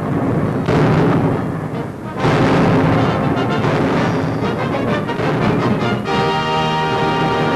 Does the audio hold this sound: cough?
no